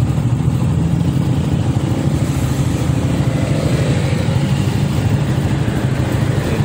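Continuous low drone of idling cars and motorcycles stuck in morning traffic, an even, unbroken mass of engine noise throughout.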